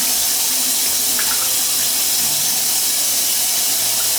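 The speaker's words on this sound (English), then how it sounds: "cup your hand under so the water you can push it back to the body so it can rinse good" Tap water runs steadily while a dog is rinsed during a flea bath, a continuous close hiss and splash with small shifts as the stream hits fur and skin.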